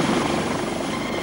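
A London Helicopter Emergency Service air ambulance helicopter makes a steady, dense rotor and engine drone, continuous and fairly loud with no pauses.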